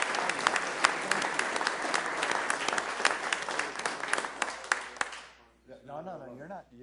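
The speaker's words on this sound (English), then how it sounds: "Let's give Stephen a round of applause" Audience applause at a Sioux Falls city council meeting, a dense steady patter of many hands for about five seconds, then stopping as a voice begins speaking.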